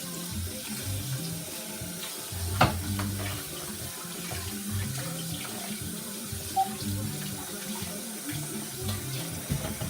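Tap water running steadily into a sink while goat meat is rinsed, a continuous close splashing stream with occasional louder gushes and handling knocks.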